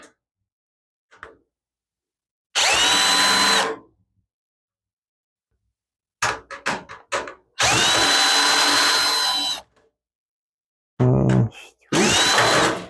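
Power screwdriver backing Phillips screws out of the case fan on a 2010 HP Pavilion desktop, with loud close whirring bursts of varied length separated by silence and small handling noises.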